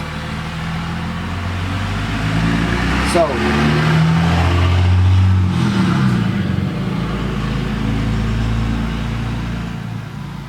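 A big truck's engine rumbles outside, swelling into a steady, loud revving drone that holds for several seconds before easing off, with a voice talking over it.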